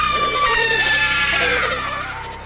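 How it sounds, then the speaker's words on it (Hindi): Ship passengers in a Hindi horror story shriek at a witch, a loud, high, wavering scream that falls in pitch and fades over about two seconds. "चुड़ैल को देखकर सभी यात्री चिल्लाने लगते हैं।"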